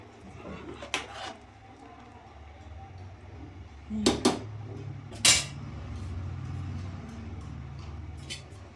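A lid goes onto a cooking pot of mentya bath after mint and coriander leaves are added. A few sharp metallic clinks and clatters come close by against a quiet kitchen background, with a brief voice in the room.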